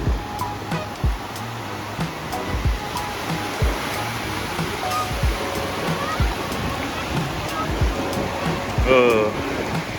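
Ocean waves and surf at Coronado beach in San Diego, a broad continuous wash of breaking water with wind noise, while people talk and exclaim over it.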